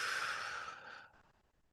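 One slow, audible exhale through the mouth during a guided gratitude practice, a soft breathy rush close to the microphone that fades gradually to quiet over about a second and a half.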